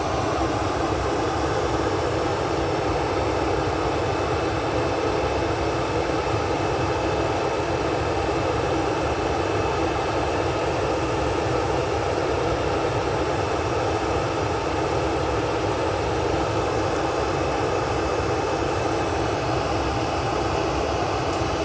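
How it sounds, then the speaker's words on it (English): A Cathay Pacific airliner on final approach into Manchester Airport produces a loud, steady jet roar that holds constant and close for the whole stretch, with no voices over it. "But Cathay Pacific now on finals."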